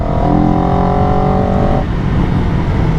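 A CFMOTO 700 CL-X motorcycle engine runs loud and steady, its tone holding then dropping off partway through as the revs settle into a rough idle.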